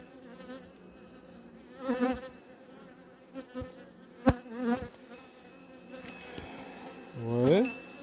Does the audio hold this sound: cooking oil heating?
no